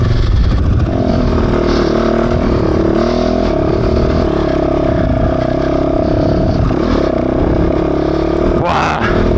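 Fantic 450 Rally motorcycle ridden off-road on an enduro trail, its engine droning steadily and loud close by, with the revs rising and falling and some clatter throughout, and a sharp burst near the end.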